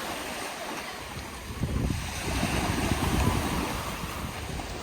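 Waves wash against the seashore at Bizerte, Tunisia, a steady broadband rush with a gentle swell in the middle, mixed with some wind noise.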